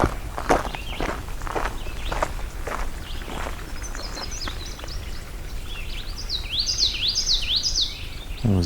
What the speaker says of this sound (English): It was indigo bunting briefly there.